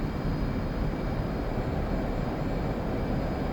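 Steady, loud jet engine roar of an aircraft at full throttle on a carrier deck in the DCS flight simulator game, a continuous broadband rumble holding evenly throughout with no voices.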